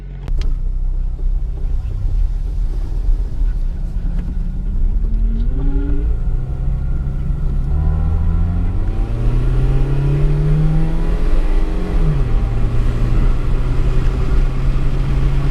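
A car engine with brake fluid in the gas tank runs steadily, rumbling low, with the pitch rising and shifting as it accelerates and moves through gears.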